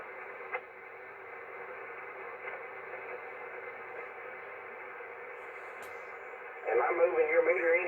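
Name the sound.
loud static on a 10-meter radio receiver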